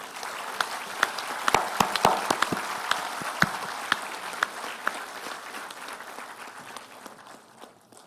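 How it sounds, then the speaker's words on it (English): Applause at a university convocation for the graduates' parents, a steady crowd patter with sharp individual claps standing out, gradually thinning and fading toward the end. "please a loud applause for your parents who are here today"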